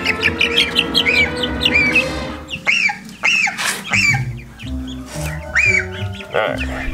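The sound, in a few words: baby chicks being gathered back into the brooder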